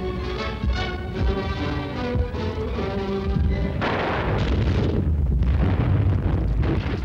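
Defensive gunfire and artillery from World War II archive footage on the Western Front boom and rumble continuously, with loud, dense blasts and crackling fire layered into a heavy, roaring wall of noise.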